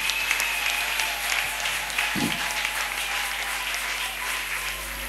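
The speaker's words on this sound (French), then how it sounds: "Acclamez le Seigneur." A church congregation claps steadily in sustained applause, a dense wash of hands filling the space with no talk over it.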